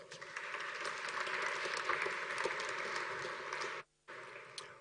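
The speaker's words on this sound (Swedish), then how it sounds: "Tack Robert, varm applåd." Warm applause from a seminar audience at a Swedish housing-economics report presentation, a steady dense wash of clapping that breaks off briefly near the end, then resumes.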